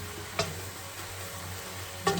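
Chicken frying in a pan for a curry, a soft steady sizzle with two brief stirring scrapes against the pan, fairly quiet and close.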